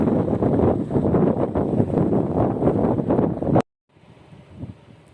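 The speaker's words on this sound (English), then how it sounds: "This wind is just crazy. This is not normal." Strong wind buffets the microphone in a park in Galicia, northern Spain, a loud continuous roaring rush that cuts off abruptly near the end and drops to a fainter gusting hiss.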